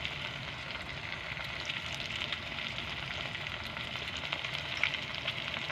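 Spices for an aila fish curry fry in oil with salt, turmeric and chilli powder, giving a steady close sizzle with faint stirring scrapes throughout, alone without talk.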